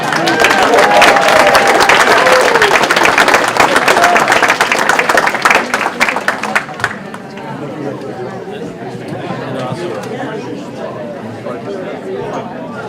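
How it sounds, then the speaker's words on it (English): Audience applause for a high school moderator at a town candidates forum in Westborough, a dense burst of many clapping hands with chatter, loud for about seven seconds before dropping to murmuring crowd talk. "Round of applause for our high school moderator."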